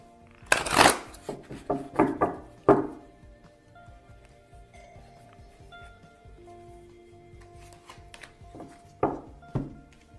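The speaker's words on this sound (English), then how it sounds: "I'm going to go ahead and shuffle these two." Tarot cards are shuffled in a few quick, crisp riffles and taps up close, then a quiet pause before a couple more soft shuffling sounds.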